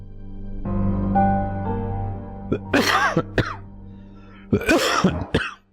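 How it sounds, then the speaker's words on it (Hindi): Several harsh coughs in two clusters, close and loud, following a low sustained hum. "हो जाती है खांसी।"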